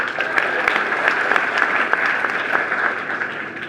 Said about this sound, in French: S'il vous plaît, on l'applaudit très fort.